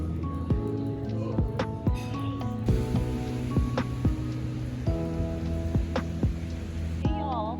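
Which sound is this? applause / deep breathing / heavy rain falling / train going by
heavy rain falling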